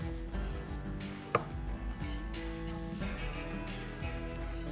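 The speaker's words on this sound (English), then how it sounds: "I'm just gonna cut off these burnt ends." A knife cutting burnt ends off a cold-smoked brisket on a board, one sharp chop among soft slicing and thuds under a steady low hum from the backyard setting, with no clear talk.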